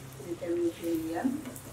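Egg-filled puri, a Bangladeshi fried bread, frying in hot oil, with a close, bubbling sizzle and a few brief scrapes or clinks, at moderate volume and with no speech over it.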